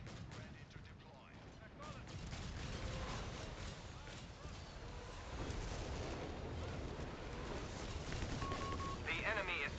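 Artillery fire in the World War II strategy game Company of Heroes 3: a dense, continuous rumble of booming shots and blasts, loud and close, with unit voice lines talking over the battle.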